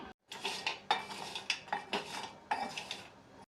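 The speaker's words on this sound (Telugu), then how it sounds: "ఇప్పుడు స్టవ్ ఆన్ చేసి ఎండు కొబ్బరిని దోరగా వేయించుకోవాలి" Dry coconut is roasted in a pan on the stove and stirred with a metal utensil, giving repeated close scraping and clinking strokes in an uneven rhythm.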